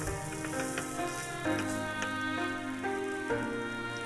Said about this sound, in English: Add the rest of the egg to the frying pan and spread them out.